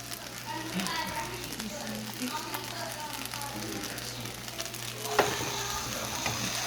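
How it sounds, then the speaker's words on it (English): Eggs and sauce sizzling in a hot pan for pork and egg fried rice, a steady close frying hiss with a spatula stirring, while someone talks over it. "So I'm going to go ahead and add the rest of the eggs and a little of the sauce."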